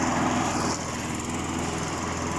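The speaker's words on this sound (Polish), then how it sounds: "To jest kosiarka poczciwego Polaka." A wheeled lawn mower's small petrol engine runs steadily at close range, a constant buzzing drone with no speech.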